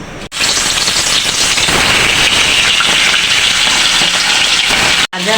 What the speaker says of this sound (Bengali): মাছগুলি ভাজার জন্য প্রথমে কড়াইয়ে সরিষার তেল দিয়ে দিব।